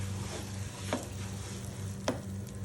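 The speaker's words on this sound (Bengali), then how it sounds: "5 মিনিট ফ্রাই করব।" Spice mix frying and being stirred in a pan: a steady, low sizzle runs throughout, with a couple of sharp scraping knocks from the spoon against the pan, fairly close and alone.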